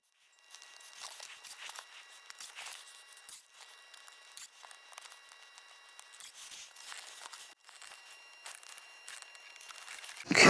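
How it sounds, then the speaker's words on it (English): Adhesive tape is peeled off a Tesla Model Y center console trim piece, giving a quiet, uneven crackling rip that stretches on for several seconds with brief pauses and a louder bump at the end. "So let's peel the tape."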